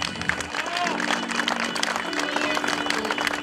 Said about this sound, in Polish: Podwójne brawa dla Damiana!